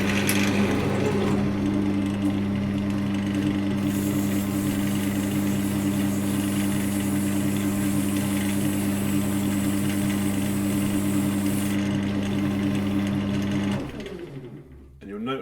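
A pen blank spinning on a wood lathe while being sanded, a loud steady motor hum with a constant tone and a hissing abrasive layer, running evenly before winding down at the end.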